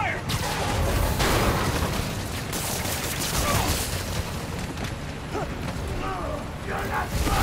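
Dense, continuous gunfire and mechanical clatter from the Spider-Man 2 video game fill the scene loudly throughout, with shouting voices mixed in.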